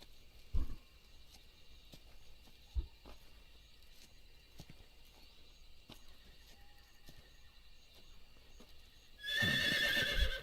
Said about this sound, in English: Oh, that was a horse.